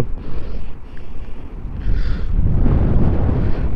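Strong mountain wind in the Cordillera roars and buffets the microphone in loud gusts, building to a heavy, continuous blast toward the end.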